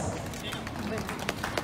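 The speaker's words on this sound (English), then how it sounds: "Let's give him a big round of applause." An audience at a school annual day gives a short, brisk round of clapping that is dense and continuous, with a few sharper claps standing out near the end.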